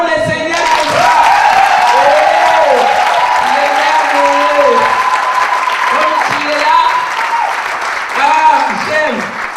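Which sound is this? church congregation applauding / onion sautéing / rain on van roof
church congregation applauding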